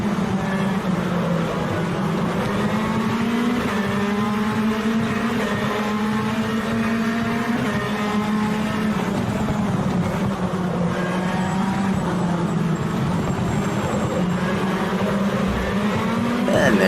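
The Moro MR18 race car in rFactor 2 howls continuously, its engine rising and falling through gear changes during a race, with other cars' engines faintly mixed in.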